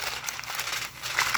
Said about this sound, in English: I'm just going to cover it with this tin foil